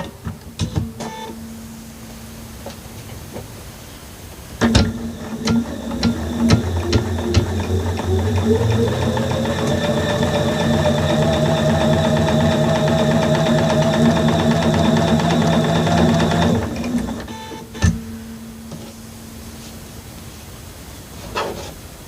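Sewing machine stitching a quarter-inch seam on a solid-fabric quilt block, a loud close mechanical whir running steadily for about twelve seconds, framed by clicks and fabric handling before and after.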